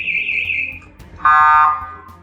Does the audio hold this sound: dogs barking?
no